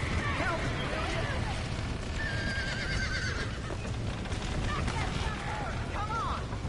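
A horse neighs and whinnies several times in a video game, the calls rising over hoof clops and a constant loud rumbling background, with voices talking throughout.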